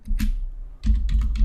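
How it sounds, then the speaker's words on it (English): Quick keystrokes on a computer keyboard while entering a primary key in SQL Plus, a brief tap followed by a short burst of several clicks, close and clear. "I'll type in primary key"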